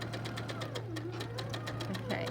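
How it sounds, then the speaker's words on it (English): Sewing machine set to a short 1.8 stitch length running steadily along drawn lines on a quilt block, a fast even rhythmic chatter throughout over a constant low hum. "I'm gonna sew right on the lines that I just drew."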